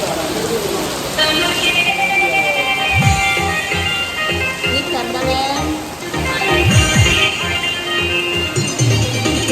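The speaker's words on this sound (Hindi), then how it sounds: "यहाँ पर बहुत ज़बरदस्त वाली बारिश हो गई।" Heavy rain in Delhi falls steadily throughout, a constant wash of drops on surfaces with occasional passing traffic and horn-like tones, while voices talk intermittently over it.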